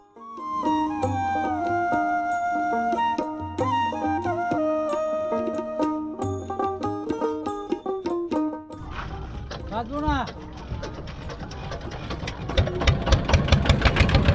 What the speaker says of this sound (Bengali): আমাদের নৌকা ছুটে চলল সেই দুর্গম চরের উদ্দেশ্যে